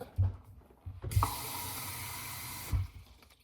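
A tap runs into a container for about a second and a half, a steady close hiss of flowing water framed by clicks and clunks of handling before and after.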